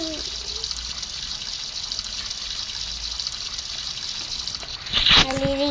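Running water pours steadily as a Roblox character bathes, a continuous hissing gush of shower-like flow, with a voice talking briefly at the start and again near the end over the water.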